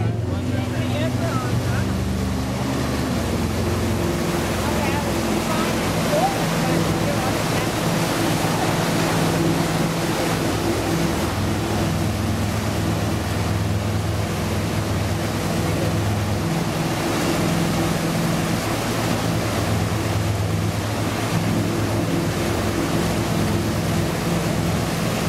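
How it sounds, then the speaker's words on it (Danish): A wakesurfing boat's engine drones steadily and close, with a continuous wash of churning water and waves around the hull throughout. "Det er nok bølgerne."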